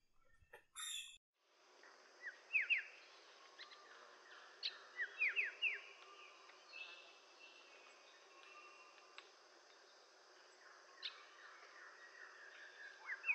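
A white-headed starling calls in Andaman Islands forest with a scatter of short, bright chirps and whistled notes over a steady hum of crickets and insects, moderately near.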